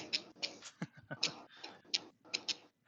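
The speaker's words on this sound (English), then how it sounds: "ticking noise in the background is your dog's fucking nails, because it sounds like dice" Dog's nails clicking on a hard floor, a string of sharp irregular ticks in quick bursts close by, heard alone without talk.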